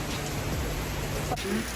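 Steady rain falls on a Florida beach as a dense, even hiss of drops, close and uninterrupted over a short stretch.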